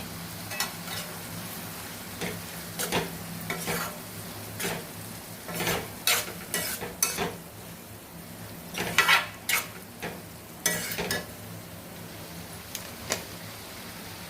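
Prawns fry in a pan with homemade masala, giving a steady low sizzle broken by clinks and scrapes as a spoon stirs them against the metal, loudest in short bursts, with no voices.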